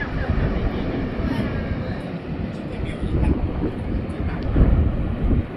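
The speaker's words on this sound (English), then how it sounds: "It's Airbus A380 coming from Seoul" Airbus A380 airliner landing at Taoyuan International Airport, heard from an observation deck as a steady broadband jet rumble with wind buffeting the microphone, swelling slightly toward the end.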